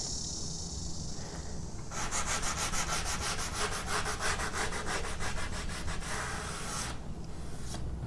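An old wooden campaign coffee table is sanded with 80-grit paper, producing steady, rhythmic back-and-forth scratchy strokes that run close and continuous for several seconds before easing off.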